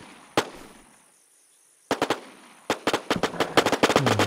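Gunfire in the online zombie survival game WarZ, at an airfield: a single loud shot, a pause, then a sharp burst and a rapid string of close, loud shots that quicken toward the end, with no talk.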